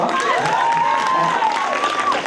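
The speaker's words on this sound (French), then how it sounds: "on l'applaudit" A crowd claps in a short, full burst of applause while a voice speaks over it.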